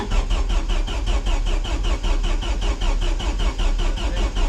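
A Vauxhall Vectra Super Touring race car engine cranks over on its very first start attempt, a loud rhythmic starter churn repeating evenly and close by without catching.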